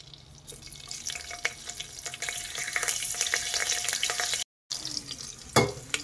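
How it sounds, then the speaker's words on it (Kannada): Loud, continuous sizzling of whole spices (cinnamon, cloves, cardamom, star anise and bay leaf) in hot oil close up, broken by a brief silence and a sharp clatter near the end. "ಈಗ ಒಗ್ಗರಣೆಗೆಲ್ಲ ಹಾಕಿದ್ದೀನಿ. ಚಕ್ಕೆ, ಲವಂಗ, ಏಲಕ್ಕಿ, ಅನಾನಸ್ ಫ್ಲವರು ಮತ್ತು ಪಲಾವ್ ಎಲೆ ಹಾಕೋತಾ ಇದ್ದೀನಿ."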